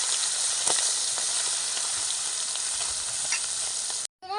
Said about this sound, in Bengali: মাছটা হালকা করে ভাজবো